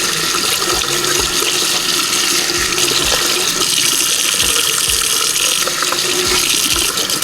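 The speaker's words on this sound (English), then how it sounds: "for each one we're just going to rinse it" Makeup brushes rinsed under a running tap, with loud continuous water splashing into a sink and small dips where the brushes move through the stream, no voices.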